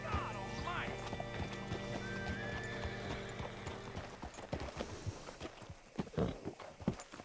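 Steady hoof clip-clop from a horse walking in Red Dead Redemption 2 comes over a low ambient bed. A whinny rises early on, and heavier hoof thuds and shuffling follow toward the end.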